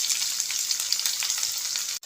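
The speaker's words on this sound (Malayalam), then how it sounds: "പിന്നെ ഗ്രാമ്പൂ, പട്ട, അതിൻ്റെ കൂടെ പച്ചമുളക്, ഇത്രയും സാധനം നന്നായിട്ട് വറുത്ത് കൊടുക്കണം." Cloves, cinnamon and green chillies frying in oil in a pan for beef pickle, a bright continuous sizzle with a brief stirring clatter near the end.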